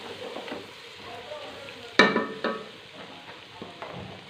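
Rice is stirred into sizzling vegetables in a pan, with a soft steady frying hiss broken by a sharp scrape and clatter near the middle and a few lighter stirring knocks afterward.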